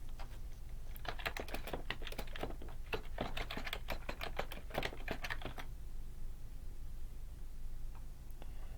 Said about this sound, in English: You can also type in an address.